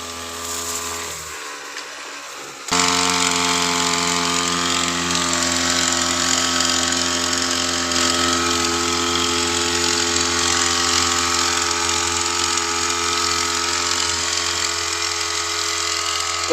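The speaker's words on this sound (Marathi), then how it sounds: "कधीही बेटर आहे हा पंप दवाई फवारण्यासाठी." Motorized pump spraying insecticide on a crop field runs steadily and loud, a constant buzzing drone with a steady hum, briefly quieter at the start before settling into full continuous operation.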